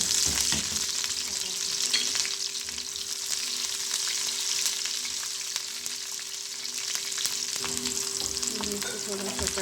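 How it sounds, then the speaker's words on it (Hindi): Garlic and green chillies sizzle steadily in hot ghee for a saag tempering, a dense crackling hiss with occasional stirring scrapes, close and fairly loud, no voices. "अब इसको हम तड़का लगाने वाले हैं"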